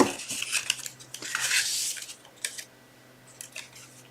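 Scissors snip material off at the corner during a craft glue-up, a few crisp close cuts and rustles of paper in the first seconds, then quieter scattered handling clicks.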